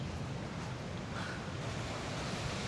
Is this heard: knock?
no